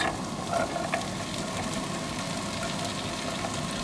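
Garlic frying in a pan: a steady close sizzle with light crackling, even and fairly loud for a few seconds, no talking.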